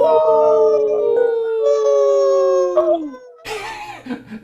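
Sustained howls rise and fall for several seconds as people imitate dogs with their voices, ending in a rougher, noisier burst of whooping.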